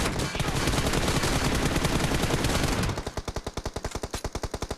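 Sustained automatic gunfire in the battle royale game PUBG Mobile, a dense roaring burst that gives way to a steady, evenly spaced volley of distinct loud shots.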